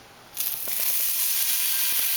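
A sudden loud sizzle bursts in as a piece of bacon hits a hot cast iron skillet, then a steady, close hiss of frying continues.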